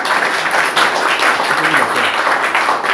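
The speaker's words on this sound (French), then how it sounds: "Applaudissons pour notre frère." A church congregation applauds in a steady, dense wash of clapping that fills the whole stretch at close range, with faint voices mixed underneath.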